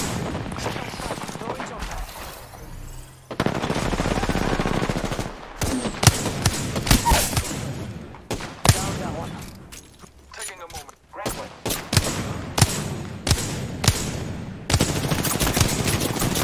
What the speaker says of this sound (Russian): Я не вижу, куда стреляют!